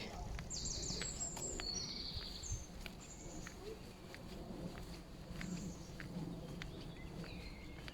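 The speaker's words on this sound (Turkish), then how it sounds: "Kuş sesleriyle beraber." Faint birdsong chirps and trills drift in from a distance over a steady outdoor hiss in Germany, with no one speaking.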